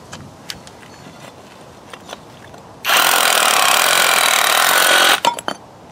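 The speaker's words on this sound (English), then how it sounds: "Let me hold it with one hand and see if I can carefully chisel." An Avhrit cordless hammer drill chisels into bricks in one loud, continuous burst of rapid hammering lasting about two seconds, with quieter knocks and taps before and after.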